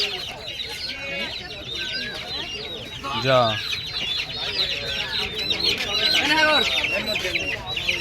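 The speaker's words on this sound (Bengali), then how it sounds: "সমস্তটাই হাঁস মুরগির বাজার" Crowded poultry noise at a Krishnanagar market: chickens clucking and squawking continuously, with ducks mixed in and a brief voice nearby.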